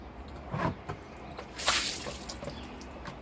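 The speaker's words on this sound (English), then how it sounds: "Squeeze out the excess water." Water drips and squishes out of a wet polishing pad as it is squeezed by hand, with a few soft close splashes spread over a couple of seconds and no talk.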